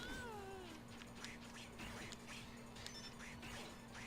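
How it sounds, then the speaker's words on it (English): A cat meows faintly in a room, its short calls rising and falling over a steady low hum, with a video game playing in the background. "The cat just opened the door."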